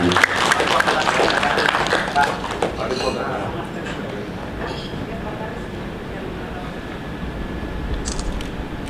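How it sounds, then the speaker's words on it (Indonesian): An audience at an inauguration ceremony of a Minangkabau artists' forum in West Sumatra, Indonesia, applauds in a dense burst of clapping that is strongest in the first few seconds and then settles into a steadier patter, with voices talking over it. "Boleh kita berikan tepuk tangan meriah hadirin dan kami muliakan."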